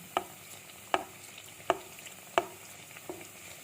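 Chicken mayo pockets frying in ghee, a low sizzle broken by five sharp spoon clinks or pops at a regular rhythm, close and fairly quiet.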